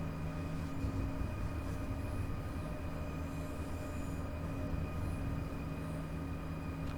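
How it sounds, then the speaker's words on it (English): An ICE3 high-speed train passes in Train Sim World 5 on the Frankfurt S-Bahn network, giving a low steady rumble with sustained tonal hums and faint wheel squeal, moderately quiet and unbroken, with no talk. "Here comes an ICE3."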